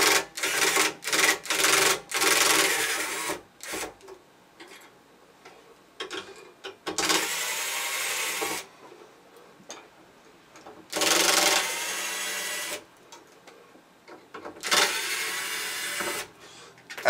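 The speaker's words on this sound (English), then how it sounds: "I'd recommend removing this four screws off of that first." Screws are worked loose from the wired plate of an A7K ozone generator, producing bursts of ratcheting, clicking mechanical turning that come and go in separate runs with quiet gaps between them.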